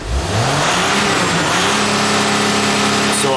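A Dodge Sprinter van engine revs at wide open throttle, rising quickly in pitch at the start and then holding a loud, steady high-rpm drone for a few seconds.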